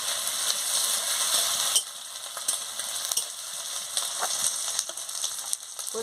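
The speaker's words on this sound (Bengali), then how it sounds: "আদা বাটাটা দিয়ে দিচ্ছি দিয়ে ভালো করে ভেজে নিচ্ছি" Ginger paste fries in a pan for a catfish curry, giving a bright continuous sizzle with scattered scraping clicks from stirring, no voices.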